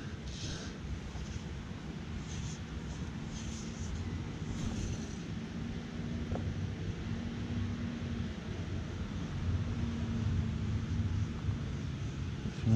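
Gusty wind buffets outdoors at a fishing spot, a steady low rumble with a gradual swell that persists throughout, with no voices.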